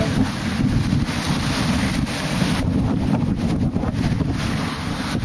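Select 6.50 sailboat surfing down breaking waves at sea, a continuous loud rush of water and hull noise with heavy wind buffeting the microphone throughout.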